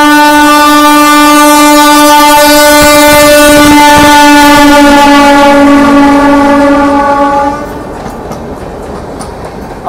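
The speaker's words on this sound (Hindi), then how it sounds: "Ajmer Bandra terminus express." The Ajmer–Bandra Terminus Express passes very close and loud with a sustained roar and steady rail clatter, then the noise drops away sharply as the last coaches go by.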